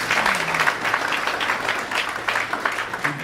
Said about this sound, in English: Give him a clap for that, would you?